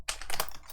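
Rapid typing on a computer keyboard while renaming a script in Roblox Studio, a short close burst of clicky keystrokes.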